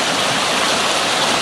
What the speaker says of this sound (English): This is the brook we've already crossed a couple times,